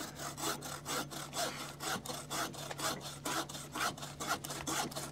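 Hand saw cutting through wood, a steady run of about a dozen rhythmic rasping strokes, close and fairly quiet, with no talking.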